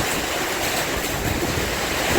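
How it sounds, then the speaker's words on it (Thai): Strong summer storm wind and rain roar steadily and loudly as one dense, unbroken wash of noise, with no voices over it. "ทั้งลมทั้งฝนเลยนะครับผม"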